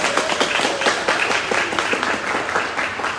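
An audience claps and applauds in a dense, continuous patter at an event, close by and steady throughout.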